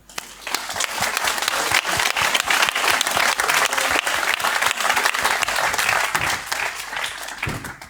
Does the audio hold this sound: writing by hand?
no